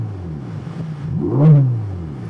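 A Ferrari Roma Spider's twin-turbo V8 idles with a low burble, then swells into a single loud rev that peaks and falls back to idle, heard alone up close.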